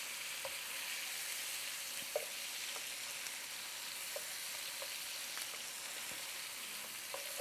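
Asparagus with pepper and fresh garlic sizzling in a pan as it is tossed, a steady quiet frying hiss broken by a few soft clicks and taps; no talking.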